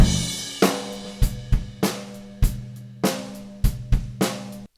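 An unprocessed drum kit plays a loose pattern of about nine sharp kick and snare hits, each followed by a long ringing tail and cymbal bleed that fades before the next strike.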